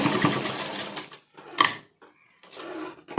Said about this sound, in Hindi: इस तरह से नीचे की तरफ मोड़ कर सिलाई लगा लेंगे